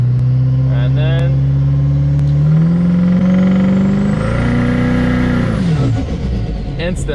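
A nitrous-fed race car engine, the LMM fitted with a spool jet, holds a loud rising rev, climbing in pitch for several seconds before the note drops off near the end.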